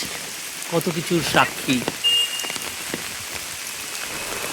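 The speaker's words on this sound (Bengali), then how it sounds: "কি তুমুল বৃষ্টি রস আইল্যান্ডে" Heavy rain pours down on Ross Island in the Andamans, a steady, dense downpour that fills the whole stretch while a person speaks over it for a few seconds.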